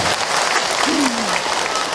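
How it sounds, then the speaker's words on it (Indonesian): A crowd at an Islamic study gathering breaks into sustained applause, thick and even clapping heard throughout, with a voice briefly calling out over it. "tepuk tangan untuk orang Pandeglang."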